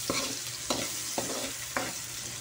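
Pork sautéing in a frying pan with seasonings sizzles steadily while a utensil scrapes and stirs in four distinct strokes, close and clear.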